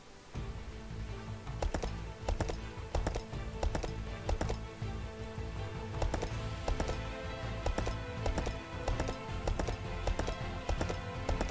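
Horse hooves clip-clop steadily in the Kingdoms video game, a quiet, regular rhythm of light knocks continuing throughout with no talk over it.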